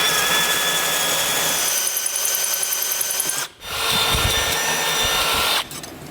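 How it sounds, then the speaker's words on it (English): A power drill bores a small pilot hole while a base plate kit is fitted to a 2018 Chevrolet Silverado, a loud sustained whine that stops briefly, resumes, then drops off near the end. "I'm going to come back with a smaller bit and drill a pilot hole."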